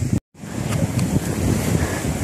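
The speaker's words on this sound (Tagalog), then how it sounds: "Ito po kasi malakas yung alon." Strong sea waves washing onto a beach during shore fishing, a loud continuous surf rumble with wind buffeting the microphone after a brief dropout at the start.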